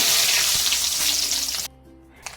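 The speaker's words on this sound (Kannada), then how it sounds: "ಸ್ವಲ್ಪ ಸಾಸಿವನ್ನು ಹಾಕಿ ಸಿಡಿದಾಗ ಇದಕ್ಕೆ ಸ್ವಲ್ಪ ಕರಿಬೇವಿನ ಸೊಪ್ಪು" Mustard seeds and curry leaves sizzle loudly in hot oil in a pan for a poori bhaji potato curry, a dense steady crackle that cuts off abruptly partway, leaving near quiet with one small clink.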